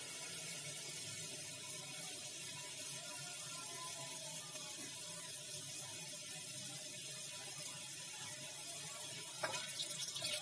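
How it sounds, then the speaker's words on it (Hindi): Water pours in a steady, even stream into a pressure cooker for sprout curry, a soft continuous splashing that runs unbroken from start to finish. "मैं इसमें अब एक कांच का जो ग्लास होता है उतना पानी डाल रही हूं"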